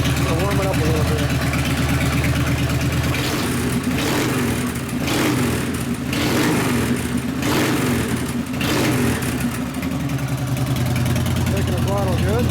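A custom Harley chopper with an Evo engine idles while warming up, a loud, continuous low rumbling throb with slight variations in engine speed, heard up close.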